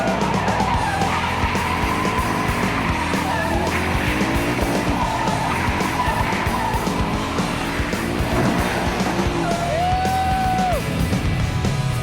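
A turbocharged BMW E30 with an S52 inline-six being drifted hard, engine roaring continuously while tires skid and squeal loudly throughout, close and unbroken for the whole stretch, with a rising squeal near the end.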